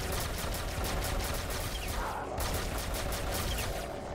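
Plasma gun firing in a Doom-style shooter map, heard as a loud, unbroken stream of rapid energy bursts pulsing evenly throughout, with no voices.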